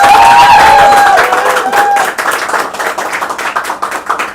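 An audience claps in a loud burst that settles into a lighter, uneven patter of individual claps, with a voice briefly audible near the start.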